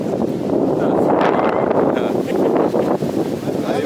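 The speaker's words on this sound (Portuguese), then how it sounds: "Vento, vem, vento, vai, vento, balança." Strong wind on the summit of Monte Tinguá in Brazil roars and buffets the microphone in a loud, continuous rush throughout, with voices faintly mixed underneath.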